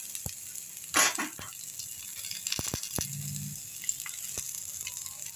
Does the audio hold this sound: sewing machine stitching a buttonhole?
no